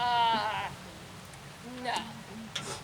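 A person's voice mimics a horse's whinny with a high, wavering, bleating neigh, followed by softer vocal sounds and a brief breathy noise.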